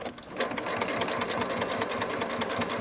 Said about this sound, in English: I'm going to hold that in place and we're going to sew.